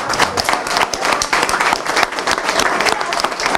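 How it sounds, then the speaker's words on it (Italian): An audience at a year-end celebration in a care home applauds warmly, dense continuous clapping from many hands filling the room at steady volume throughout. "grazie a Don Domenico, un grande applauso veramente"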